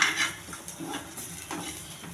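Garlic, cumin and mustard seeds tossed in a pan with leafy greens during tempering make a quick run of metal pan and utensil clatter with soft stirring scrapes, close and moderately quiet, and nobody talks.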